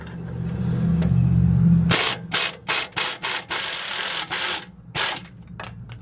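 A ratchet works a 7mm Allen-head socket loose on a Ford rear axle, a series of quick, close clicking bursts in an uneven rhythm following a low mechanical hum.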